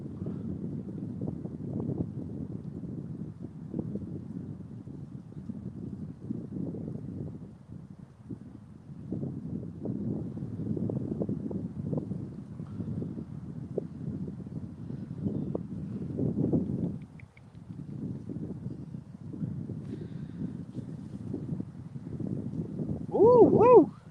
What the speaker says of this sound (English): Ooh, there's the wind.